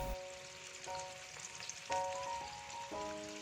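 Crispy enoki mushrooms fry in hot oil in a pan, giving a steady, moderately quiet sizzle and crackle throughout, with no voices.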